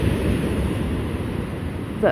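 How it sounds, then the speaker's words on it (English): Ocean surf rolls steadily onto a Norfolk beach, a continuous broadband wash with wind noise on the microphone and a slight swell near the end, heard alone without voices. "I'm assuming it's the waves crashing that"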